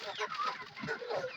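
A flock of broiler chickens about nine weeks old on a small poultry farm murmurs and clucks continuously in a dense, overlapping chatter, with faint voices in the background.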